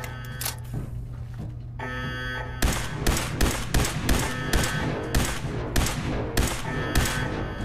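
Rapid bursts of gunfire from a Fallout 4 weapon crack repeatedly over a constant electronic hum, steady and loud, with sharp regular shots throughout.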